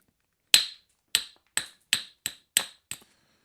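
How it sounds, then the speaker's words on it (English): A soft hammer taps the edge of a flint in seven crisp, evenly spaced knocks, each a bright clicking strike that rings briefly against near silence. "literally just brushing the edge of the flint with the soft hammer"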